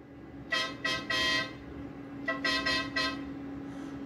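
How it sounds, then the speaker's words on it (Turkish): A toy car's horn honks in short repeated blasts, two quick beeps, then a longer one, then a rapid cluster of toots over a low engine hum. "Tamam bir daha basayım kornaya."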